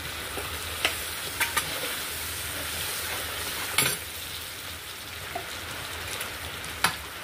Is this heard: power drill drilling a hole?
no